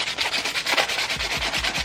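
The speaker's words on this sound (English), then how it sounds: "it'll look nice and scratchy like this once you're finished sanding it" Sandpaper rubbing over an acrylic face shield makes quick, close, rhythmic scratchy strokes, repeated back and forth at a steady pace.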